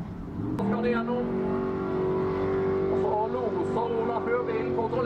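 A race car engine drones steadily on a hill-climb course in Skien, its pitch rising and shifting as the car accelerates uphill, heard under continuous commentary.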